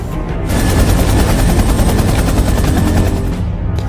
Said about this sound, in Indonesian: Mirko dan Joe dimasukkan ke helikopter dan dibawa ke markas untuk diobati